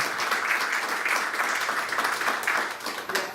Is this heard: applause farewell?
yes